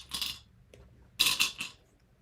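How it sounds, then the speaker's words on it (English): Small sewing clips click and clatter against each other as they are fastened onto a bag zipper. A light clink is followed a moment later by a louder burst of several quick rattling snaps, close by, with no talking. "I'm also going to put in clips just to make sure it doesn't go anywhere."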